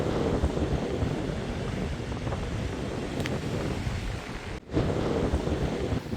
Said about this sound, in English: Super windy, eh? It's like the Great Lakes. The waves are just rolling.